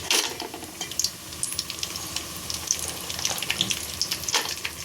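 Dates fry in ghee in a pan for Ramzan semiya, giving a close, busy crackle and sizzle with rapid popping throughout.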